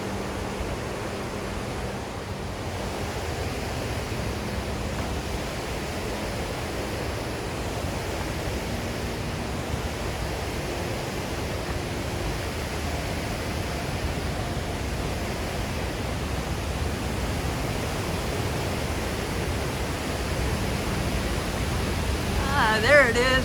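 Akron Falls in Western New York roars in a steady, broad rush of falling water that continues unbroken and swells slightly toward the end.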